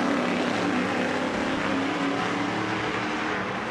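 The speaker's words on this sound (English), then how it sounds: "The Speed Energy Stadium Super Trucks" Speed Energy Stadium Super Trucks race past on the final lap of round five at Nashville in 2022, a loud, dense, continuous roar of engines at high revs with no talk.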